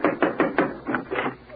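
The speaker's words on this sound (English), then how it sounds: "let's knock at this next door." A knock on a door played as a sound effect on a 1944 radio comedy show, a run of about six to eight firm, hollow raps in two quick groups, close and clear, with no speech over them.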